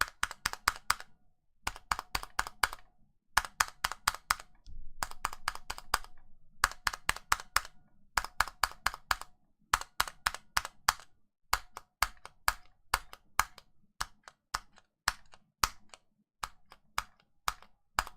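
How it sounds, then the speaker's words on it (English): Keyboard keys on lubed, clipped, band-aid-modded stabilizers pressed down hard in quick bursts, each clack close and crisp with a slightly deep, muted thock, pausing briefly between groups. "the stabilizer that is lubed, clipped and band-aid modded has a bit of a deeper sound to it"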